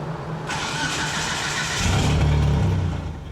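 A Hyundai Elantra fitted with 1200cc injectors and running on E85, its engine revving up from a steady run into a louder, deeper pull near the end, recorded close with no talking.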